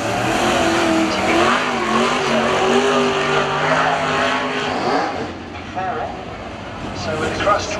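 A sprint race car circling the Warrnambool speedway dirt track at a race meeting, heard as a loud, continuous engine drone with rising and falling pitch as it passes, while a commentator talks over it.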